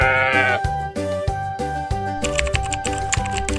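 A sheep gives one short, wavering bleat right at the start, then falls silent while a steady, rhythmic backing beat carries on for the rest of the clip.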